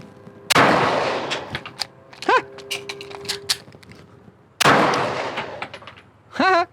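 Two sharp, loud pistol shots ring out with echoing tails, followed by a slide-stop reload and one more shot, with clicks and handling noises between them at an outdoor range.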